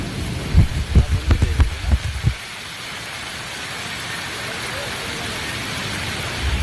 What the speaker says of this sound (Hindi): दिल्ली में बीती रात से जमकर बारिश हो रही है।